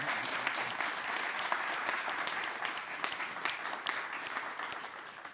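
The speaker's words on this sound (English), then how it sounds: "Give yourselves a round of applause for a wonderful evening" Sustained audience applause closing an evening panel discussion, dense clapping from a full room holding steady throughout with no talking.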